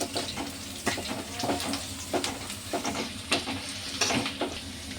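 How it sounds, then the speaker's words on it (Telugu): Tempering spices sizzle and crackle in hot oil in a pan for radish and onion sambar, with a steady close frying hiss broken by repeated sharp pops and stirring clinks. "ఇలా తాలింపు మొత్తం చక్కగా వేగింది కదండి"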